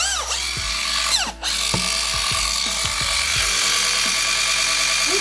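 An electric pedicure machine sands thick heel skin with a continuous high whine. Repeated dips and scrapes are heard as the bit presses against the skin, with one brief cut in the motor near the start.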